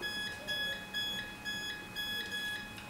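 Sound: Sentry electronic safe keypad beeping after code entry

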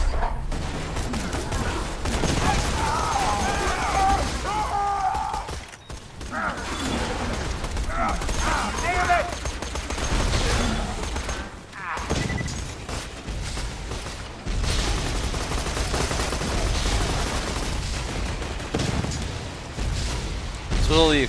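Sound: explosions and gunfire in Borderlands 2 video game

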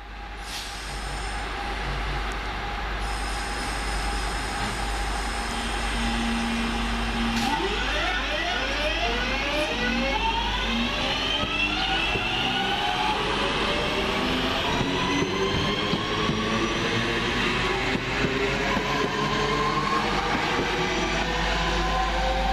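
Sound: trains and cars passing

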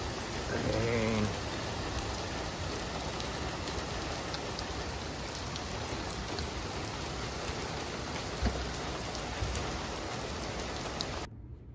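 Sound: rain falling

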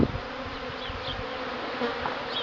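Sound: honeybees buzzing on a cleansing flight outside the hive

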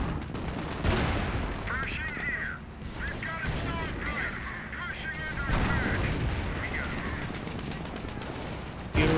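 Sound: gunfire in the video game Company of Heroes

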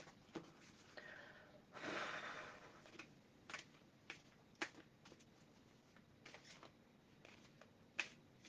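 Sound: shuffling a deck of oracle cards

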